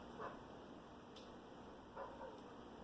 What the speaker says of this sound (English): Who are they barking at, people?